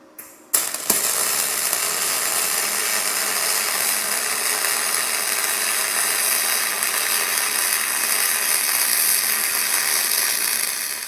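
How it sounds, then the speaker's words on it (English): MIG welding 1/8 inch aluminum with a YesWelder DP200 double pulse welder, a steady loud crackling hiss that starts abruptly and runs continuously for about ten seconds, no talk. "And I've got some 1/8 inch aluminum that's ready to weld here"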